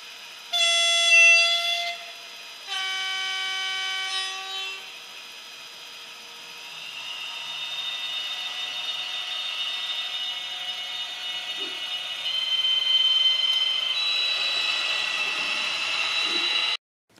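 Stadler Eurodual diesel locomotive model played through its stock factory speakers: two short horn blasts open, then a steady diesel engine drone that swells slightly louder toward the end, with no talking.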